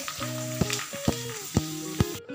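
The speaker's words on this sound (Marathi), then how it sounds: "तर याप्रमाणे सगळ्या पुऱ्या मी तळून घेते।" Puris deep frying in hot oil over a lowered flame for pani puri: a steady close sizzle with four evenly spaced knocks and a faint tonal hum running underneath.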